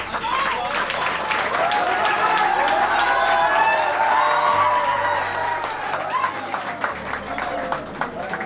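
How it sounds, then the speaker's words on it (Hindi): Audience applauding to welcome a chemistry teacher onto a stage at a student inspiration event, steady loud clapping from a large crowd with a few cheers and whoops throughout. "जोरदार तालियों से स्वागत करते हैं"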